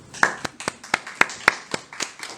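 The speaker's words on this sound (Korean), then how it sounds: "박수!" A small group at a church Bible study claps in a loose, uneven rhythm, about a dozen sharp, separate hand claps close by, with no one speaking.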